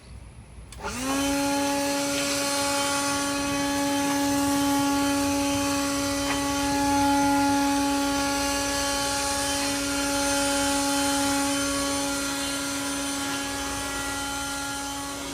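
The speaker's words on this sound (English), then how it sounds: "as you guys see, the blower works great." A Ryobi ONE+ 18V cordless leaf blower spins up and runs outdoors with a steady, close, high-pitched electric whine and airy rush, holding constant for about fifteen seconds with no voices.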